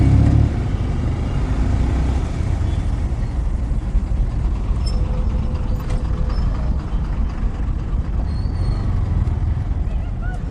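A bus rumbles in dense road traffic near a beach festival in Vizag, giving a loud, steady low engine drone and traffic roar throughout, heard close from the roadside.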